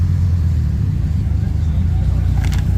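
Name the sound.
Chevrolet Camaro engine driving by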